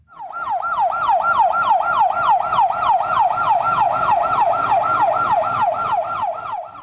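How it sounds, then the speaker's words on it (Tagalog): An ambulance siren wails in a fast, continuous yelp, rising and falling rapidly and steadily, loud and close throughout. "Mayat-maya ang pagdating ng mga ambulansya."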